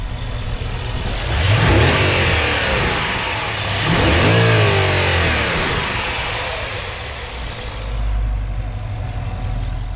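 A naturally aspirated 4.8-litre V8 Porsche Panamera GTS engine revs up loudly twice with rising, throaty roars, then settles back toward a low idle between bursts.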